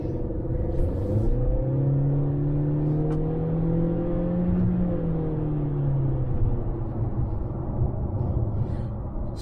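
Engine of a 2020 Honda CR-V gas AWD running while driving, a steady low interior rumble with a gently rising and falling hum as the car accelerates smoothly.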